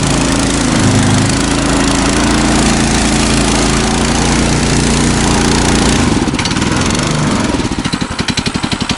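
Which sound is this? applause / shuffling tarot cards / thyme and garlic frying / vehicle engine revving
vehicle engine revving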